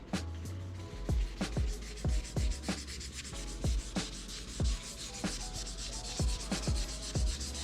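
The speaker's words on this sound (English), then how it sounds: "So I'm gonna show you how to wet sand and buff this area right here." Wet sanding a painted build by hand with 1500 grit sandpaper, a close, steady back-and-forth rubbing in a regular rhythm of strokes with soft scraping peaks on each pass.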